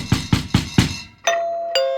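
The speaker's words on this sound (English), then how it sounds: "The doorbell rings again, followed by a hard knock." A two-tone ding-dong doorbell sounds at night after a quick series of rapid knocks, ringing clear and close with the tones sustaining and no voices present.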